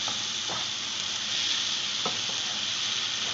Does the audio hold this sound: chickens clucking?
no